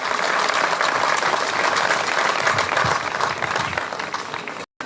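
An audience applauds at a hillclimb rally awards ceremony, a dense, steady wash of clapping from many people that carries on for several seconds before cutting off abruptly near the end.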